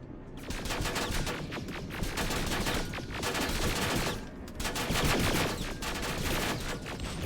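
Automated turrets blaze away in Terminator: Resistance with dense, continuous gunfire, volleys overlapping into a loud, sustained fusillade with brief dips before the barrage surges again.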